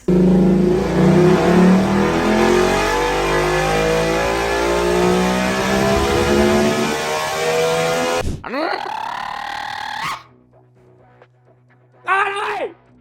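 A Ducati V-twin motorcycle engine revs hard and climbs through high pitch, cuts off, then gives a couple of short sharp throttle blips; loud and close.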